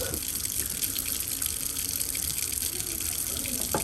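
Water runs from an office tap, a steady hissing gush of cold water pouring into a sink, constant and fairly close, with no talk over it.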